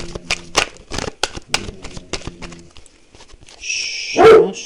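A pet dog named Snowy barks indoors in quick sharp bursts, followed by a shuffling and a louder burst near the end, fairly close.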